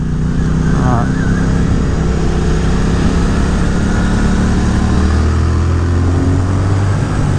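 A Triumph Speed Twin with a TuneECU remap runs under way, its engine droning loud and steady with a low rumble and some wind roar. The throttle seems to open gradually, and a rider talks over it.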